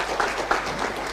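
An audience at a government ministry event applauds, a steady wash of many hands clapping at moderate loudness with a few sharper claps standing out.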